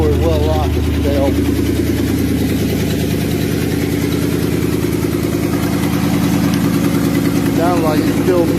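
A truck engine idles roughly with a persistent misfire, a loud, close, uneven rumble that continues without a break while people talk over it.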